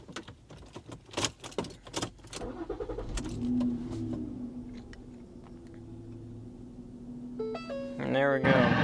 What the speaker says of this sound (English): Let's crank the car.